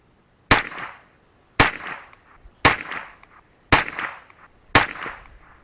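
Five sharp, evenly spaced gunshots from an old Remington Target .22LR rifle crack about once a second, each a loud snap with a brief ringing decay and no talking between them.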